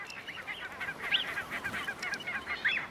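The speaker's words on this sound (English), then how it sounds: "The parents have left the nest and call the chicks." Parent waterbirds away from their nest on a Dutch river island call to their chicks with repeated honking, goose-like cries, fairly faint and distant over steady outdoor background noise.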